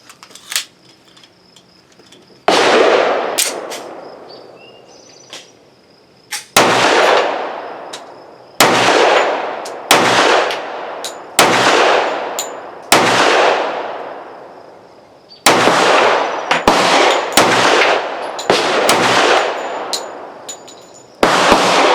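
A Tisas 1911 10mm pistol firing ZYG ammunition at an outdoor range: about ten loud, sharp shots spaced a second or two apart, each with a ringing tail, after a short quiet start.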